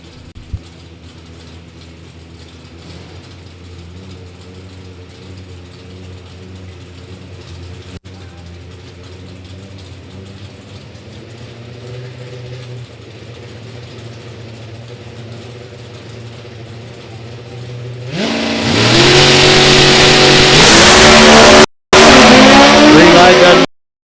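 V8 and 4-cylinder drag race cars idle with a low rumble for a long stretch at a drag strip, then launch with a sudden very loud roar of revving engines climbing in pitch.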